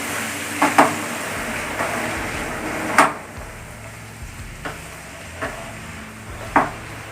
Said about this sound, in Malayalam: ഈ ഒന്നൊരു മീഡിയം ഫ്ലെയിമിലേക്ക് ആക്കിയിട്ട് കേട്ടോ നന്നായി ഒന്ന് ഇളക്കി കൊടുക്കുക